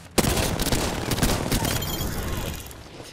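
Gunfire in Apex Legends, a sudden loud burst of rapid automatic shots that rattles on for about three seconds, close and dense, with sharp impacts and a faint ringing tail as it fades.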